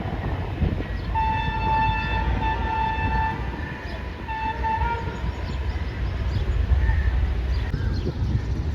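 The 16 Down Karachi Express passenger train departs behind a diesel locomotive, its engine rumbling steadily while a loud horn sounds for several seconds near the start.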